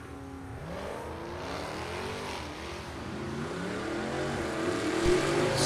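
Drag racing cars, a Dodge Hellcat and a Mustang in the Street Heat category, rev and accelerate loudly on the strip, engine tones rising and sweeping as they build power, growing louder toward the end.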